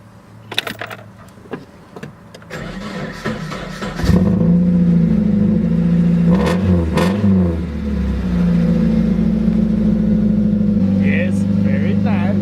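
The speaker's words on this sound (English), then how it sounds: "So the car does run, turnkey, first crank." A Volvo 240 engine cranks and fires up on the first turn of the key, then settles into a loud, steady idle with clicks and knocks beforehand, voices faintly audible over it.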